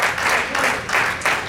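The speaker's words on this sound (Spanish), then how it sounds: "¿Cuánto le dan un aplauso al Rey de Reyes y Señor de Señores?" A church congregation at a house of prayer in Arkansas applauds in praise, dense clapping swelling and easing in rhythmic waves, close and fairly loud.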